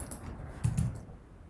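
A few soft, quick keystrokes tap on a computer keyboard, faint and close against a quiet background hiss.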